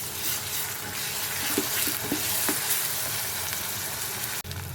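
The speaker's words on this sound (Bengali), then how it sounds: "আমি এখানে আদা বাটা এবং রসুন বাটা দিয়ে দিলাম। এটাকে এখন একটু ভালো করে কষিয়ে নিব।" Ginger and garlic paste sautéing in a hot pan for beef kolija bhuna, a steady close sizzle with faint stirring scrapes and a brief clatter near the end.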